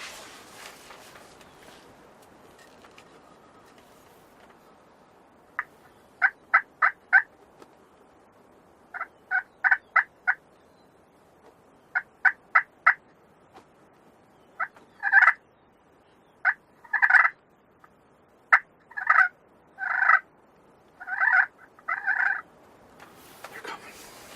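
Wild turkeys, young male jakes, gobble repeatedly at a distance, rattling bursts coming in clusters that grow louder and more frequent toward the end, with quiet between calls.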